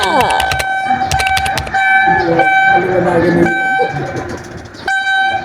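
A PNR passenger train pulls into Bagtang station in the Bicol region, its horn blaring loudly in repeated blasts over the rumble of the rail cars, while people talk nearby.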